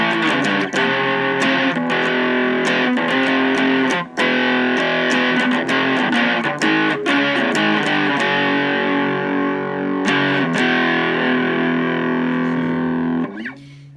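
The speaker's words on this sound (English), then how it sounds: "nice plastic distortion, the old DS1" Loud, heavily distorted electric guitar chords through a Boss DS-1 distortion pedal on the humbucker pickup, ringing out continuously with sharp strums and sustained, gritty overdrive, played alone without any voices.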